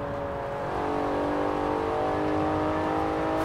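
A 2019 Porsche Carrera S flat-six in Forza Horizon 4 holds a loud, steady high-rev drone near 8,000 RPM, with stacked harmonic whine over rumbling road noise and no pauses.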